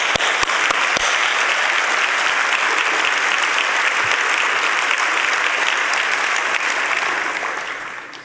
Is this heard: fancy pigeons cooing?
no